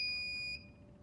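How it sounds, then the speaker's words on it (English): A fire door control panel gives an electronic beep as it is reset, a loud steady tone that cuts off after about half a second. A fainter echo follows. Low background hum continues underneath. "You heard it make one more beep after that, and now we're back to normal."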